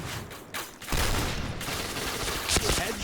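Bursts of HK-416 assault rifle fire in the shooting video game Point Blank rattle out in rapid, loud volleys, mixed with game effects and faint voices in the background.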